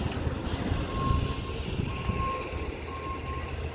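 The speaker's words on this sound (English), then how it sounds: "Let me get out of the way before I get ran over by this big truck" Big truck rolling through a car dealership lot, a low engine rumble close by with intermittent high reversing beeps sounding at regular intervals.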